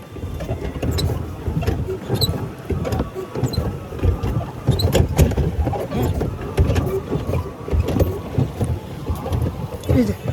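A pedal boat moves across open water with a steady churning and sloshing of paddle wheels and gusts of wind noise on the microphone. The sound comes close and continuous, with people talking throughout.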